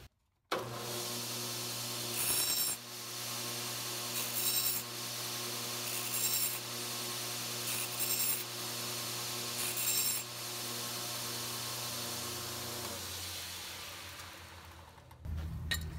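A sandpaper corner is slid across a metal edge to deburr it, making short rasping strokes every couple of seconds over a steady droning hum.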